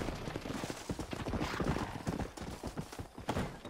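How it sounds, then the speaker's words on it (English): Horses running with a carriage in the Red Dead Redemption video game, a dense, steady patter of hoofbeats that stays loud and close throughout, with rumbling noise underneath. "Horses are running, though."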